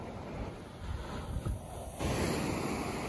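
Broad rushing surf noise of Black Sea waves at Gelendzhik in December, with wind buffeting the microphone, waves washing in steadily and swelling louder toward the end.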